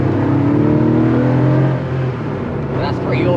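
A 1986 Porsche 911 3.2 with a lightweight flywheel and a naturally aspirated engine revs loud and close, a throaty rising drone that eases slightly toward the end.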